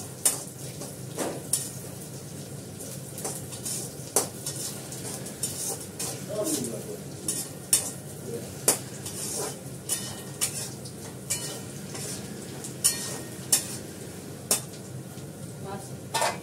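Food frying in a pan, a quiet steady sizzle punctuated by sharp, regular clinks and scrapes as a utensil stirs against the metal, with occasional low voices nearby.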